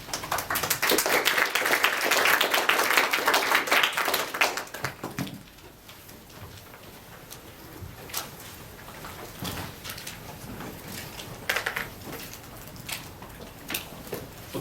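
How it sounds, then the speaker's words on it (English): Audience applause at a tech conference, loud and dense for the first few seconds before thinning out into scattered claps and small clatters. "Please welcome him with applause."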